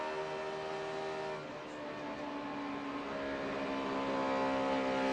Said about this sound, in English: I love to listen to his engines.